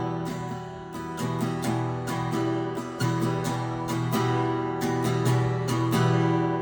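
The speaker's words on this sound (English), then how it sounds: "First minor chord sounds a little spooky and adds a nice contrast to the major chords." Beginner acoustic-style guitar strumming an open minor chord, then other chords, with repeated down-strums in a steady rhythm, close and clear with no voices.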